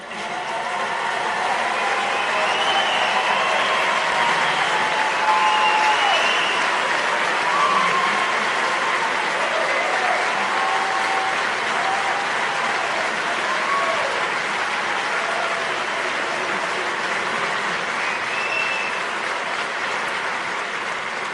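A conservative audience at a Sarah Palin political speech applauds in a long, even wash of clapping that holds steady at moderate loudness for about twenty seconds, with faint crowd voices mixed in.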